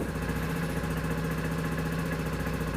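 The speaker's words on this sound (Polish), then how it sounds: "Ale motocykl chodzi, pięknie." A Junak RX 1 motorcycle engine running on E10 fuel idles steadily, a low continuous rumble with a regular throbbing pulse that holds even and close throughout.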